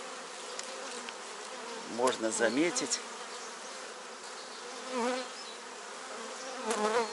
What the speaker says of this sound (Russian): Пчелы эту матку кормят